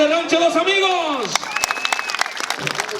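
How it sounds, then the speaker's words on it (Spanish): Crowd at a jaripeo rodeo in Ameyaltepec, Guerrero, breaking into scattered applause and clapping right after an announcer's amplified voice. "El aplauso para Brazalete de Rancho Los Amigos."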